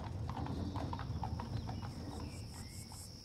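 Horse hooves clip-clop steadily as a horse-drawn wagon sets off across open salt flats, a continuous close rhythm with faint insect chirps in the background.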